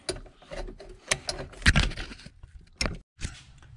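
Metallic clicks and ratcheting from a wrench tightening the automatic transmission fluid filter on a 2003-2004 Honda Pilot, a series of close, uneven bursts with short pauses, no talking.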